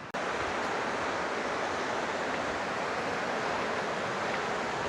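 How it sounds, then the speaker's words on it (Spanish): Byron Creek, a glacial stream fed by the Byron Glacier in Alaska, rushes in a steady, dense broadband roar, close and constant throughout with no voices. "Todo este arroyo que les estábamos mostrando recién es el arroyo Byron, que viene del glaciar Byron"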